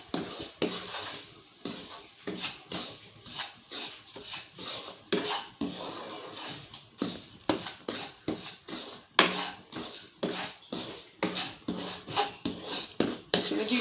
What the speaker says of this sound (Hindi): सूजी को हम 5-10 मिनट रोस्ट करेंगे, सिर्फ कलर नहीं आने देंगे।